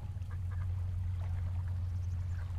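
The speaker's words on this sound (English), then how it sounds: "Those ducks are enormous." Ducks quack in Breath of the Wild over a steady, loud low hum of game ambience; the calls come as a few short, moderately close bursts.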